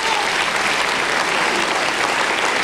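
Studio audience applause on a French TV show, steady dense clapping from a large crowd filling the whole moment without letup, loud and close.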